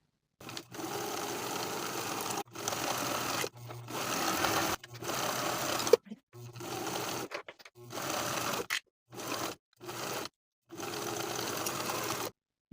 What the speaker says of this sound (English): Then we'll sew these seams with a 5/8 inch seam allowance from the bottom of the sleeve across the underarm seam to the bottom of the jacket.